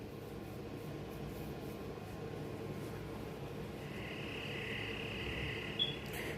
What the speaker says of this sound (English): Everyone was asleep and all I could hear was crickets.